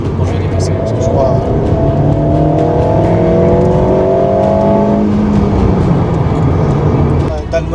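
Alpine A110S engine pulling hard while overtaking on a road, rising harmonic tones climbing steadily over several seconds inside the cabin, loud and continuous with road rumble, then easing off near the end as a person talks over it.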